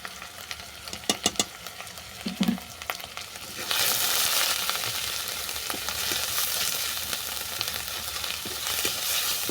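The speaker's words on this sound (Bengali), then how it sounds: "সমস্ত মশলাগুলোকে ভালো করে কষিয়ে নিচ্ছি" Salt, turmeric and dried chili frying with onion and tomato in a pan for a fish mustard curry, a steady close sizzle that jumps louder partway through, with occasional scrapes of stirring.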